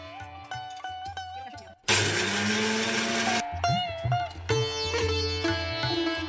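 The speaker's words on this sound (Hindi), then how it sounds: "तो मूंगफली मैं भूंज के पीस ले रही हूँ।" A blender jar grinds roasted peanuts in one loud, harsh burst of about a second and a half, with quieter tonal background sounds before and after.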